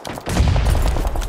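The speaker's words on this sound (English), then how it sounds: "I'm getting shot." Rapid video game gunfire crackles in a quick close burst of shots during a competitive shooter scrim, loud and dense for about a second.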